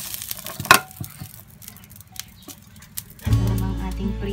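Milkfish meets hot oil in a pan, and after a few light clinks and stirring noises a loud, steady sizzle of frying suddenly starts and carries on to the end.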